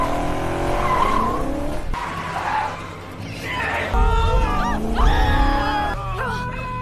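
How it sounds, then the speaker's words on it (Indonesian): Tires squeal and skid repeatedly as cars swerve through a film car chase, with roaring engines and rising, sliding screeches under a narrator's voice. "kejar-kejaran mobil pun tersaji"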